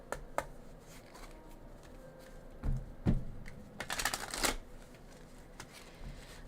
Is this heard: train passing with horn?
no